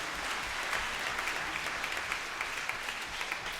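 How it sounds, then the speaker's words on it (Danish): Children at a school concert applaud after hearing a viola demonstrated, steady, dense crowd clapping heard close and even throughout with no talk over it. "Sådan, skal vi klappe af bratschen."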